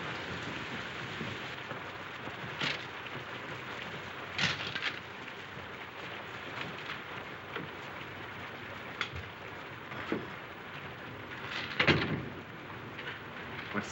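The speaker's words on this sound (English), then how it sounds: "It's this rain, I guess. Makes me jumpy." Steady rain falls throughout, a dense hiss of drops on surfaces with occasional louder splashes and knocks rising above the continuous downpour.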